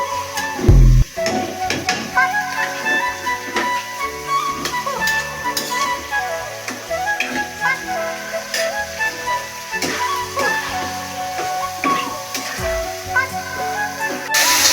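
Food sizzles and fries steadily in a pan during home cooking, with stirring clatter, faint voices and a child calling out over the hiss.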